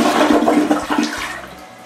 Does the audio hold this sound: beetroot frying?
no